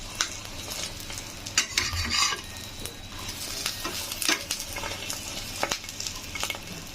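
An egg fries in a pan with a steady sizzle, broken by repeated scraping and stirring strokes of a utensil against the metal.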